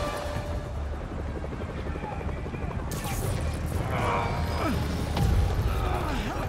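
A helicopter in Marvel's Spider-Man Remastered thrums with a low rotor chop under clattering game action and crashes, while someone talks over it.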